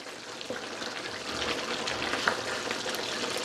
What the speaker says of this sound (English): Add a little bit of water to help with the process of the cooking